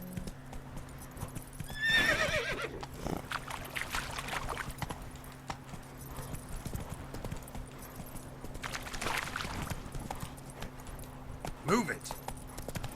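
The horse Roach from The Witcher 3: Hearts of Stone gallops in a steady clip-clop rhythm with a couple of whinnies, while voices talk over the hoofbeats throughout.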